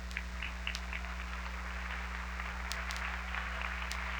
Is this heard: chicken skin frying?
no